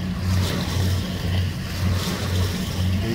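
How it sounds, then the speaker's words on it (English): A big river tug pushing a long, heavily loaded barge that sits low in the water gives off a steady, close diesel drone with a slow, rhythmic low throb over a wash of churning water. "Big tug."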